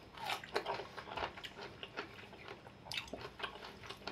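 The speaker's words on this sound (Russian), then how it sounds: "Хрустит же." Close crunching chews of dry food during a snack of bulgur with homemade turkey cutlets, a series of quick crisp bites and mastication at an irregular rhythm, faint and nearby.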